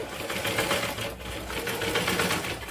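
Sewing machine stitching waste cloth into a doormat, a steady continuous mechanical whir with rapid needle chatter running the whole time at close range, no voices.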